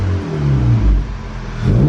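A 2011-style Volkswagen GTI MK6 with 140k miles revs its engine with a deep, consistent tone, the pitch rising and falling across two short pulls, close and fairly loud.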